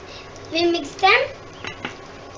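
Whole spices, including cumin and mustard seeds, bay leaf, cinnamon sticks, black pepper and black cardamom, are stirred in a cooking pot with a few utensil scrapes and clinks, while a voice is briefly heard.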